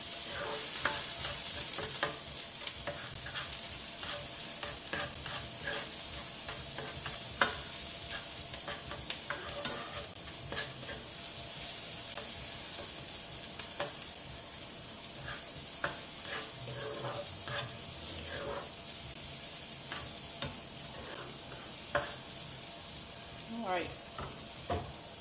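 Chopped vegetables for stuffed bell peppers fry in a pan over turned-up heat, a quiet, continuous sizzle broken by occasional scraping stirs, with no one talking.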